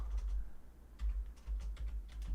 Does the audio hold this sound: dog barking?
no